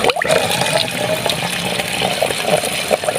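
Water gushes strongly and continuously from an irrigation pipe on an off-grid water supply, a loud, close, turbulent splashing rush with no talk over it.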